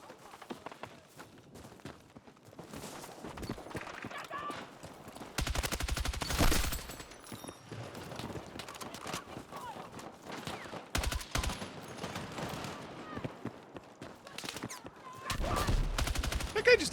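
Bursts of automatic gunfire in the video game Battlefield 6 crackle through a busy battlefield mix, with heavy loud volleys around the middle and end and lighter shots between, alongside occasional talk.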